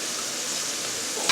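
Flour cooking in a pan, a brief steady hiss of frying with a short scrape of stirring at the very end.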